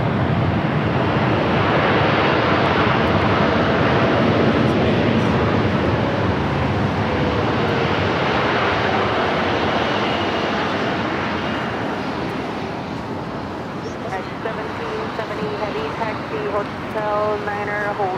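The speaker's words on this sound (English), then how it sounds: "We're still waiting on that United 777." A United Airlines Boeing 777 jet roars at LAX, a loud sustained engine rush with a descending whine that eases slightly toward the end, while a voice talks intermittently over it.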